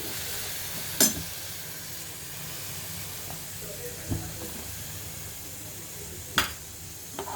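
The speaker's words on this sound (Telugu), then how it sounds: "ఇది నూనెలో వేగనిద్దాం." Green chillies fry in hot oil with a soft, steady sizzle and hiss, broken now and then by a few sharp clinks and pops nearby.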